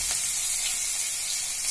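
Garlic added to hot oil already tempered with mustard seeds and asafoetida fries with a dense, even hiss, steady and close without pause.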